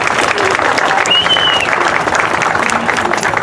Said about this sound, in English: Ladies and gentlemen, let's give a round of applause to the Njrotc at Everett Alvarez High School.